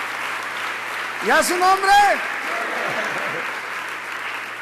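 Audience applause hisses steadily throughout as a voice shouts a brief exclamation over it midway, the clapping continuing underneath.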